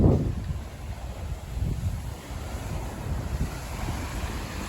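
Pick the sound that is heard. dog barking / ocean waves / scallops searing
ocean waves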